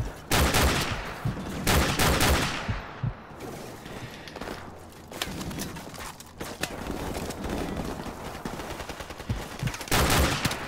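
Call of Duty 4: Modern Warfare battle gunfire: dense bursts of rifle and machine-gun shots crackle throughout, some close and loud, others farther off, with no talk.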